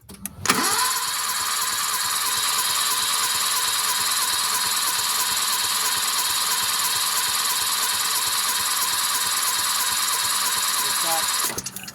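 A turbocharged Kei car engine cranks on its starter during a wet compression test of the number 3 cylinder after valve adjustment; a loud, even, rhythmically pulsing whir starts abruptly, holds for about eleven seconds, then cuts off.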